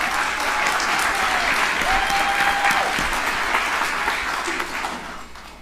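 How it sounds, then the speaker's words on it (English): An audience applauds steadily throughout at a university pitch competition finals, introducing an undergraduate presenter; a dense, sustained clapping that fades slightly toward the end, with no talk over it. "Let's give him a big round of applause."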